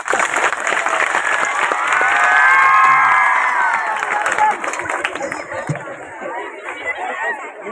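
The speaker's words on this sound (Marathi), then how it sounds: "जोरदार मुलींसाठी टाळ्या" A crowd of schoolchildren at a school prize event applauds and cheers loudly, sustained clapping mixed with shouts and chatter that swells then slowly thins, with voices talking over it.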